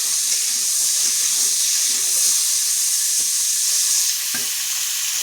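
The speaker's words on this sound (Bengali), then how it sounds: "এখন আমি আলুগুলো ভাজা করে নেব।" Potato pieces fry in hot oil in a pan with a loud, constant close sizzle and hiss, while a few soft scrapes and knocks of stirring poke through the steady crackle.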